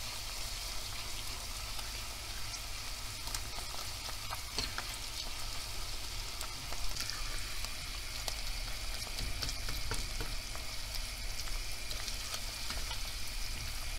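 Pepper paste and tomato paste frying with onions in a pan, giving a steady, dense sizzle throughout with faint occasional stirring ticks.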